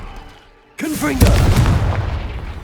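In Hogwarts Legacy, a Confringo fire spell bursts with a sudden loud blast, then a deep booming roar that rumbles on. A voice briefly overlaps the start of the impact.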